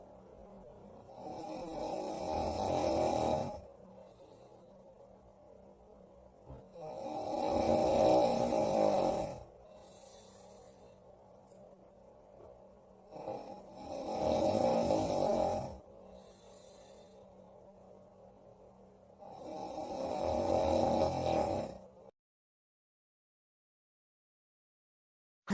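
A sleeping man snores in four long, loud breaths spaced several seconds apart, each swelling and fading, with quiet gaps between and silence at the very end.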